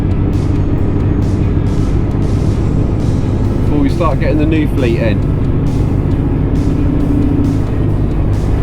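Inside the cab of a Mercedes Actros HGV truck on the road, a constant low engine and road drone runs throughout while someone talks over it.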